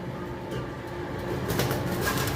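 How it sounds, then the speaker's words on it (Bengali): Cockatiels flutter and flap restlessly inside a cage, a continuous close rustle of wings with bird noise, growing slightly louder toward the end. "আসলে কোকাটেলগুলো একটু দাপড়াচ্ছে"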